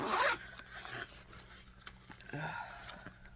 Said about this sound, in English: On the back of the bag, you have a zip pocket that goes straight across.